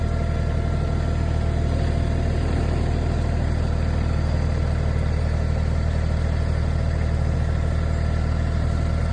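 A steady, loud tractor engine runs at a constant low idle, a continuous rumbling drone with no change in pace and no voices.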